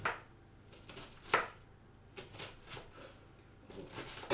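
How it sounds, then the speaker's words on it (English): Knife chopping a white onion on a board in a home kitchen, a few irregular crisp cuts spaced apart, fairly quiet and close with no talking. "Then I'm going to chop up a white onion."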